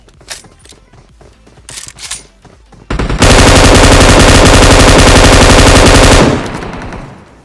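An M249 light machine gun in a battle royale video game fires one loud, sustained rapid burst for about three seconds, preceded by scattered footsteps and reload clicks, with no talk.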